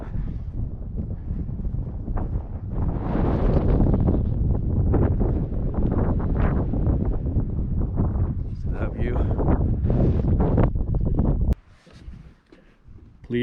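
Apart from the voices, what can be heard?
strong wind at a mountain fire tower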